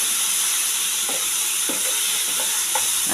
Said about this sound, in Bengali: পেঁয়াজের যতক্ষণ গন্ধ থাকবে ততক্ষণ একটু ভেজে নেব